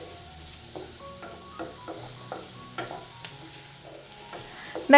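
Carrots and dates sautéed in a pan for a sweet dish, with soft rhythmic stirring scrapes and light clicks over a quiet sizzle, close and alone with no talking.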